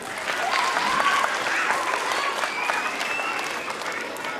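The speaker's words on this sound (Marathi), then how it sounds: "आता अगोदर सर्वांनी जोरात टाळ्या वाजवायच्या आहेत" Steady, dense applause from an audience at a children's play, loud and continuous across the whole stretch with a faint murmur of voices mixed in.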